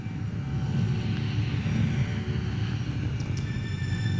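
An emergency medical helicopter from the Châteauroux hospital with a nurse and a doctor aboard gives a steady, continuous engine-and-rotor drone that holds an even level throughout, with no talking.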